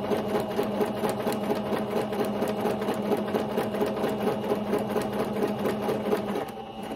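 Close, steady whir of a sewing machine running continuously as it stitches ribbon onto a ruffled tutu sock, easing off slightly at the very end.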